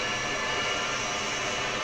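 A steady, even jet engine hum at idle from a Boeing 727 in a flight simulator, broad and unchanging with no voices.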